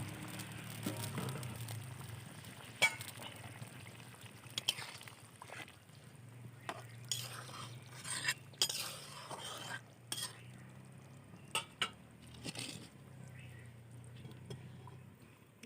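Pieces of Rohu fish go into a pot of boiling potato curry, with soft bubbling and simmering, faint clinks and scrapes of a utensil against the pot, and occasional sharper knocks.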